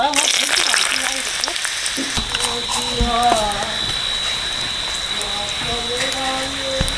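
Dry red chillies, bay leaves and panch phoron frying in hot mustard oil left over from frying fish: a steady loud sizzle and crackle with stirring clinks, close by, while faint voices talk in the background.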